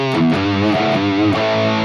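High-gain distorted electric guitar with everything above roughly 5 kHz cut by EQ, giving a darker, muffled tone; sustained chords ring loud and close, played alone with no talking.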